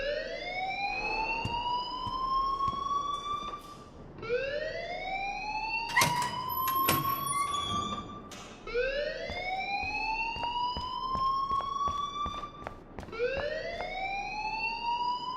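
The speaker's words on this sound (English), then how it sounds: "please turn off that alarm since that's your job" A fire alarm in the video game Life Is Strange wails in repeated rising sweeps, loud and steady, with a burst of sharp clattering partway through and no talking.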